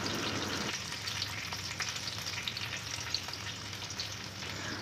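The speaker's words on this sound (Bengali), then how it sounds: "ঘি আর কিছুটুকু পরিমাণ কাজু কিশমিশ আর 2টো এলাচ, একটু তেজপাতা দিয়ে হালকা করে ভেজে নেব।" Cashews, raisins, cardamom and bay leaf fry in ghee in a kadai on a gas stove, giving a soft continuous sizzling hiss with faint stirring, and no voices.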